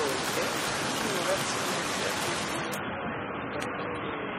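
Loud rushing water in the survival game The Forest, a constant, heavy roar like a stream or waterfall that fills the whole stretch, with players talking over it.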